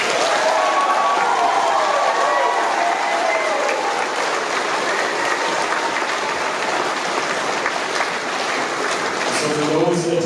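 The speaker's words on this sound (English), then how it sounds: "Let's give them one more round of applause." A large crowd at a graduation ceremony applauds the graduates continuously, dense clapping filling the whole stretch, with a few voices audible near the end.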